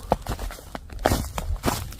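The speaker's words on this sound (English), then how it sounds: "Something's walking." Footsteps crunch through a forest at night during a solo camping trip, an irregular series of close, loud steps on leaf litter and twigs with no talk.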